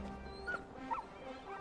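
The young hound Torgo in the game Final Fantasy XVI lets out soft, high, wavering whimpers and small yips, close and fairly quiet.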